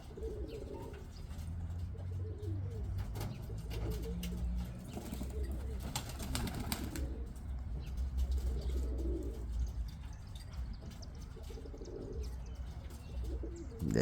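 Pet pigeons coo repeatedly at close range, soft low throaty calls overlapping in loose rhythm, with occasional chirps and a brief flutter of wings.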